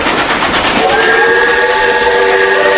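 Inside a horror video game, a steam train whistle blows with steady sustained tones over the loud rumble and hiss of the train pulling away, continuous throughout.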